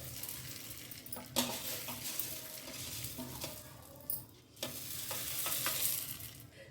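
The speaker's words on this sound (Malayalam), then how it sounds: "ഞാൻ ഇരുമ്പിൻ്റെ ചീരച്ചട്ടി വെച്ചാണ് ഞാൻ വറുത്തെടുത്തത്" Whole spices dry-roasting in a thick iron pan for Tirunelveli-style sambar powder: quiet, close scraping and stirring with soft rattles of the spices, in irregular bursts.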